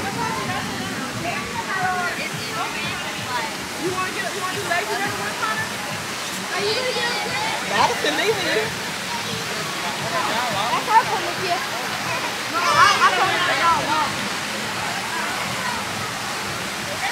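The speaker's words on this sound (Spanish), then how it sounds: "la cascada." A waterfall roars steadily with rushing, splashing water throughout, and voices can be heard faintly beneath the constant noise.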